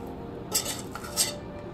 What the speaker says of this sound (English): And then spoon about 1/3 of your rice on the bottom.